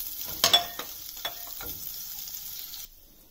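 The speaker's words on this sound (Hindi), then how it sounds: "इसमें हम ये ग्रेटेड जिंजर डालेंगे और इसको अच्छे से सौते करेंगे।" Grated ginger sautés in butter in a pan, giving a soft, close sizzle with a few sharp stirring scrapes near the start, then fading to quiet before the end.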